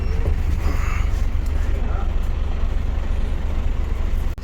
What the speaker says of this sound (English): I want to hear the engine on it. It's a Volvo of some sort.